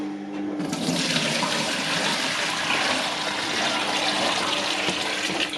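Rinse water poured out of a bowl during pastry making, a loud steady gush of splashing water running continuously for several seconds with no talk.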